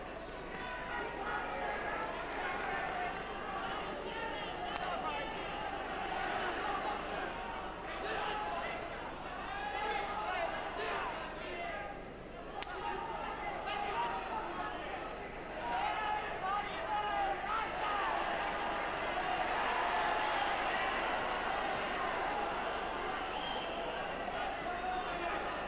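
A boxing crowd at the Pat Clinton versus Isidro Perez fight urges a fighter on, a steady roar of hubbub and shouts running the whole time beneath continuous commentary.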